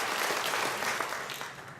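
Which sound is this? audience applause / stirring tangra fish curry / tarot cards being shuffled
audience applause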